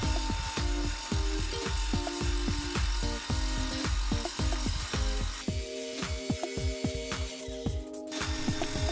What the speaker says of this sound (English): taking about a 1/10th out depth of cut. RPM is 2500 and machining a piece of cold roll steel